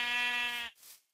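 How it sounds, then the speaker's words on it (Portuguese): A single Minecraft sheep bleats once, a short, clear, tonal bleat heard alone and fairly close. "Tanto de ovelha aqui"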